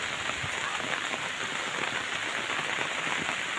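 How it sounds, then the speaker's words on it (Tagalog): Heavy rain from a typhoon pours steadily onto surfaces nearby, a dense continuous hiss with no pauses and no talk. "Ayan, may ulan na mga idol. Grabe, ulan."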